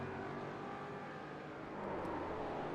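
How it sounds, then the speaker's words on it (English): A race car engine drones steadily in a sim racing league race, faint and continuous with a slight rise in pitch, set against the low ambient noise of the track. "I hear a car that's not happy with its tires"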